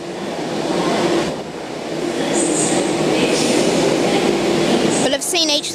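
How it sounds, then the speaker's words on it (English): A Sydney Trains service sits at a station platform, its steady rumble and hum running throughout with faint talk in the background, and a short squeal or hiss near the end. "So this was a train that terminated and then returned."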